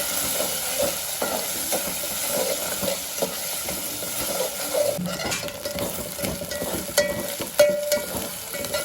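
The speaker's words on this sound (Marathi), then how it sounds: "त्याला आता चांगला हलवून घेते" Masala frying in oil for a village-style goat head curry, with a continuous hissing sizzle and intermittent scraping stirs, close and steady throughout.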